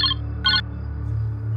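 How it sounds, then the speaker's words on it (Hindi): A telephone rings in two short electronic bursts separated by a pause, fairly close, over a low steady hum in a room. "ये देखो आ गया फोन।"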